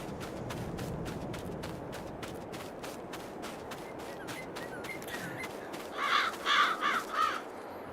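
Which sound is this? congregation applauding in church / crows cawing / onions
crows cawing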